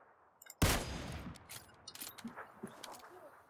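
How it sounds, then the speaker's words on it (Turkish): Gunfire in the video game PUBG Lite on the Miramar map: a loud, sharp burst of shots opens the passage, followed by scattered fainter shots and game clatter with no talk. "Ben kafadan vurmaya çalışıyorum."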